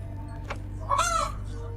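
A chicken clucking near a base camp, a short single squawk followed by a louder drawn-out cackle over a steady low hum, with no talking.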